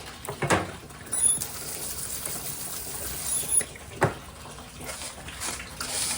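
Air sputtering water out of a garden hose: irregular spits, gurgles and brief bursts of spray over a soft trickling background, fairly close.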